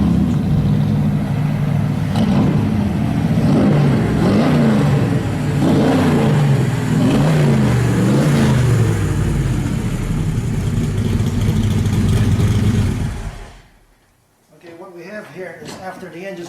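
A race car engine warms up before a compression test, with loud rhythmic revs and pitch swells over a heavy idle, cutting off abruptly near the end, with voices faint beneath.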